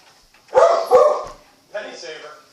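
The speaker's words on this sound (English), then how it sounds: "my dog is freaking out" A dog barks indoors, close and loud, two quick barks followed by a third, softer one, with speech mixed in.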